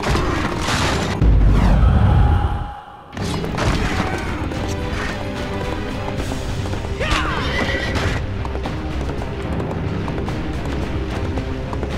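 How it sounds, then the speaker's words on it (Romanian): Horses in the video game Prince of Persia: The Two Thrones whinny loudly and gallop amid crashing, thudding action, with a heavy rumbling impact early on and a busy, dense mix throughout. "Ce cai nebun."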